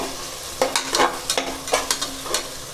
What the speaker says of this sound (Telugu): ఇప్పుడు మనం చికెన్ వేసి వేగించుకోవాలండి చూడండి ఎలా వేగాయో